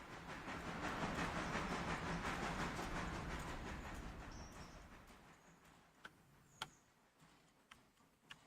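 In the Railroader simulation game, a train rumbles in and swells to a loud, heavy roll before fading away, leaving a few sharp metallic clicks and clacks on a quieter background.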